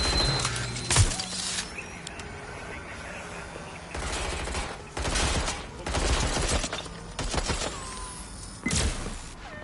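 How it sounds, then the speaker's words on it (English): Gunfire rattles in Watch Dogs: Legion, with bursts of automatic fire and single shots coming in clusters over shifting combat noise, loud and close, while voices call out between the shots. "Shot fired!"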